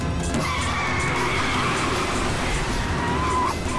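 A car drives hard and skids in a film chase scene, engine noise and a sustained tire squeal running continuously under faint background voices.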